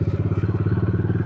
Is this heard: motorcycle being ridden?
yes